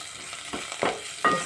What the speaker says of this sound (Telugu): 2 నిమిషాల తర్వాత మూత వేసి చూస్తే కాకరకాయ మంచి ఫ్రై అయింది.